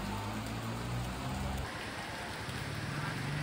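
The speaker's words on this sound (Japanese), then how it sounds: "傘の意味がないほどのギャン雨です。" Heavy rain pouring down on a Bangkok street, a dense, loud, unbroken hiss of drops hitting the ground and surfaces around, with faint low traffic rumble beneath.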